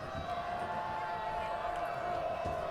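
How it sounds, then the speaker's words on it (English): A high school football crowd at a senior night game between Campolindo and Las Lomas keeps up a steady, dense roar of cheering, with an announcer talking over it. "the noise that this crowd is making"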